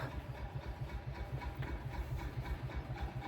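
A tractor engine runs steadily in a small village, a low rumbling idle with a regular throbbing pulse that stays constant and moderately close throughout, no voices.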